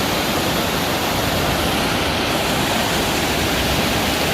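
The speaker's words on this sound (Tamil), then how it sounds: "இந்த தண்ணி சவுண்டு கேட்குதுங்களா, அப்பா!" Siruvani Falls, also called Kovai Kutralam, sends a loud, close, unbroken roar of rushing water that fills the whole stretch with dense, steady hiss and rumble, with no voices.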